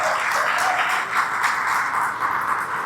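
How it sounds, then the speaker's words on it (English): Clapping for sponsors at the Marlborough Regional Chamber of Commerce awards celebration: a steady, dense patter of many hands that holds evenly throughout. "so clap for them"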